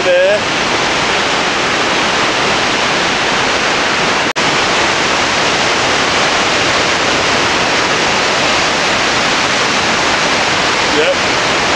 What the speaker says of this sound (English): Hard to even see with the mist of a waterfall spray.